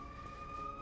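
An ambulance siren outside a room, a faint, steady, high wailing tone heard briefly and distantly on its own.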